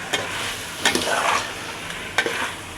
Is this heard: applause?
no